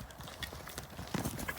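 A ridden horse's hooves clip-clop at a quick, steady walking rhythm, close and fairly loud, with a light rustle of tack between the hoof strikes.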